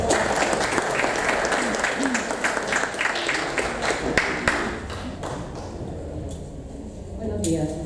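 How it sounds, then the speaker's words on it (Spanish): Applause from a breakfast-forum audience greets a presidential candidate's representative, many hands clapping steadily before thinning out toward the end, with a voice speaking over the final moments. "Un fuerte aplauso, por favor, para ella."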